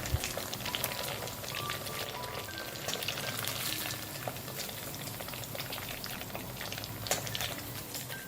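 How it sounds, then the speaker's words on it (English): Tofu pieces frying in hot oil with curry leaves, a bubbling, crackling sizzle with scattered sharp pops, fairly quiet and close, steady throughout. "That's the second batch coming out of the hot oil."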